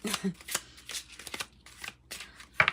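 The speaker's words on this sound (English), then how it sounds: "I don't know if I can shuffle them like that." A deck of tarot cards being shuffled close by, making a run of quick papery riffles and slaps in irregular bursts, ending with a sharper flurry.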